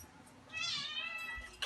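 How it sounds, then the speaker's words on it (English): Cat meowing indoors in a kitchen, one drawn-out faint meow heard alone against quiet room noise. "Kitty Cat, who's been helping us today down on the floor"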